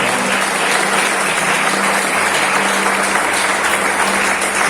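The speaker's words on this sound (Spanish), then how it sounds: "Den un fuerte aplauso a Cristo" A church congregation applauds loudly and continuously, a dense, even roar of many hands with a faint sustained tone underneath throughout.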